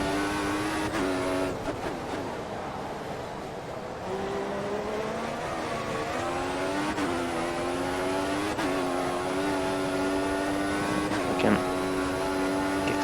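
Several Formula 1 cars in the F1 2014 racing game at the Hungarian Grand Prix, engines droning and whining steadily at high pitch, revs rising and dropping as gears shift, the cars running close together throughout.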